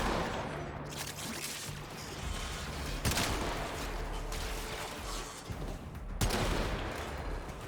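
Video game gunfire rattles in bursts of sharp cracks, with a few louder shots standing out above a steady mechanical clatter and background din.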